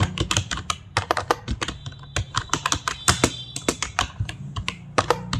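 Fingers tap rapidly on a computer keyboard while entering data into a spreadsheet, producing a close, irregular stream of crisp key clicks with short pauses between bursts.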